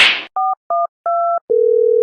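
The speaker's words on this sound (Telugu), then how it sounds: "ఒక్కసారి నీ ఫ్రెండ్ రాజుకి ఫోన్ చేయి." Telephone call being placed to a friend: a brief burst of noise, then three short two-pitch beeps, then a sustained single-pitch dial tone, all clean, close and alone.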